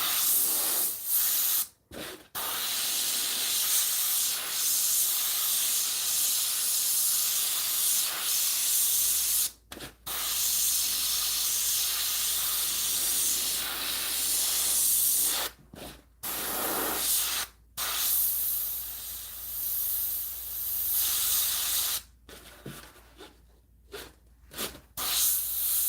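Airbrush spraying paint onto a hat, a steady close hiss in long bursts of several seconds broken by short pauses, with no talking.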